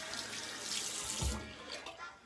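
Tap water runs steadily while shaving soap lather is built up with a silvertip badger brush, a continuous close hiss with slight splashing swells, moderately quiet and without voices.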